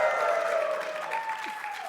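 A conference audience at a hacker convention claps and cheers in a brief, steady burst of applause, fairly close and continuous.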